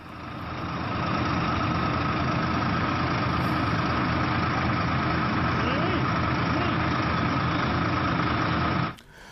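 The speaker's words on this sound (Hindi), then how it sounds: "उत्तर प्रदेश के हापुड़ से महिला किसान अपने ट्रैक्टर लेकर निकल पड़ी हैं।" Tractor engines idle steadily at a farmers' tractor parade gathering from Hapur, Uttar Pradesh, a loud continuous low rumble that holds for several seconds, then cuts off abruptly near the end.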